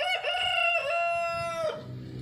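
A rooster crows once in a long, loud, drawn-out cock-a-doodle-doo close by, holding a strained high note for over a second before it tails off into quieter farmyard background.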